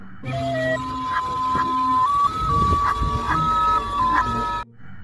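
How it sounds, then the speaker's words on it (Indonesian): A toy ice cream truck plays a tinny electronic jingle, a bright stepping tune that runs for several seconds and then cuts off abruptly. Faint chirpy sound effects are mixed in. "Ya, kalau yang ini mobil es krim."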